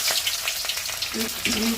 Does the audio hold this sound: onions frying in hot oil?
yes